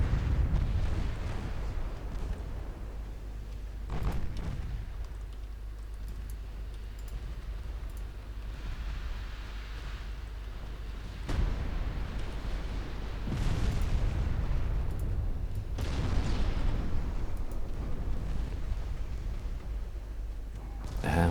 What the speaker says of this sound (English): we do get torpedo hits on their battleship